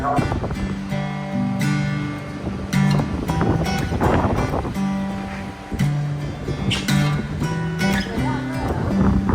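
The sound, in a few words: ferry crossing ambience with wind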